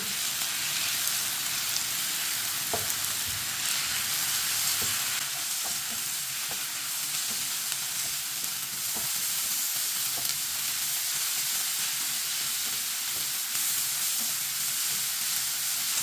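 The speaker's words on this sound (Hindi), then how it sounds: "नारदाना डाल लेंगे, अच्छी तरह मिक्स कर लेंगे।" Dried pomegranate seeds being stirred into a bitter gourd masala frying in a pan, with a steady close sizzle throughout and faint scraping of the spoon against the pan.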